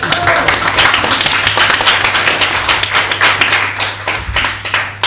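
An audience at a mentalism show applauds a child, with brisk, dense clapping from many hands that stays loud and lively for about five seconds and tapers only slightly toward the end.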